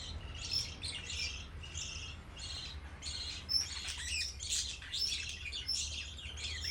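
Pet lovebirds chirp in quick, bright bursts that repeat through the whole stretch, faint and a little distant over a low background hum, with no talk.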